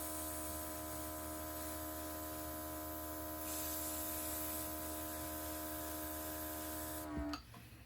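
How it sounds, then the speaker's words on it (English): An airbrush sprays paint onto an Estes Blue Origin New Glenn model rocket part, a close, steady hiss with a faint electrical hum beneath that runs evenly before cutting off near the end. "do our airbrush."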